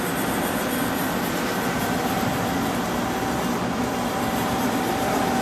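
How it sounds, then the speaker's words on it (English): A Femco HL-25 CNC turning center moves its axes, giving a steady, dense mechanical whir and hiss with faint servo whine that holds throughout, with no voices. "We'll just move the axes around a little bit."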